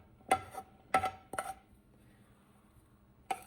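A knife chopping fresh coriander on a board for tomato chutney: three quick close knocks, then a pause and one more chop, crisp and alone.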